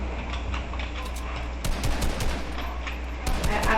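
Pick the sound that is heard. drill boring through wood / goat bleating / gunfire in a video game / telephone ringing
gunfire in a video game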